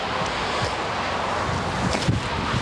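Strong gale-force headwind roaring across an open disc golf course at Cutter Park in Norfolk, a continuous loud rush buffeting the microphone without pause.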